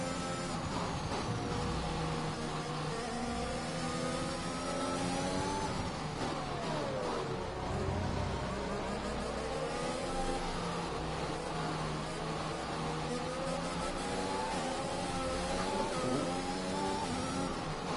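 A race car engine whines steadily in the F1 2021 video game at the Brazil round, its pitch sliding up and down through gear changes in a continuous, moderately loud drone with no talk.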